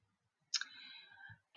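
A single sharp computer mouse click in a quiet room, immediately followed by a short, steady ringing tone lasting about a second.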